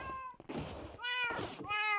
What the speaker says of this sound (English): Alright, we still have all of our cats.